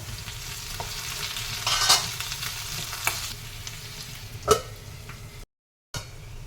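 Carrot pieces fry in a pan for a carrot pickle, a steady close sizzle with a few stirring scrapes and clinks, one louder knock near the end before a brief gap of silence.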